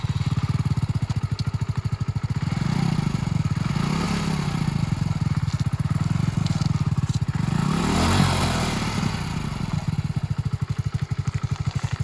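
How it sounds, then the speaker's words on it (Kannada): A girl rides a motorcycle nearby, its engine droning steadily with the revs rising and falling in a few gentle swells and a rattly clatter throughout. No one speaks. "ನನ್ನ ಮಗಳು ಬೈಕ್ ಓಡಿಸೋದು ನೋಡೋದೇ ಒಂದು ಚಂದ."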